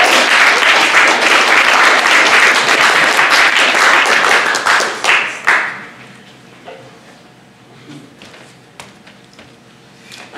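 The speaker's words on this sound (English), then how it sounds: "Round of applause." A live audience at a comedy show in a gallery bursts into a full, dense round of applause that fades out after about five seconds, leaving a quiet room with scattered faint claps and murmurs.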